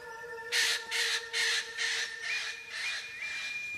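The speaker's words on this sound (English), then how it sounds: "Eclectus parrots are the pinnacle of parrot evolution." Eclectus parrot in the Ethiopian Highlands gives a series of about six harsh, raspy squawks in quick succession, close and fairly loud against a quiet background.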